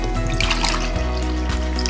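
Water is poured into cups already holding vinegar for cracking and dyeing Easter eggs, a steady close splashing trickle that stops briefly and then resumes.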